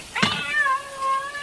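A cat lets out one loud, close meow after being struck, opening with a sharp cry that stretches into a drawn-out wail.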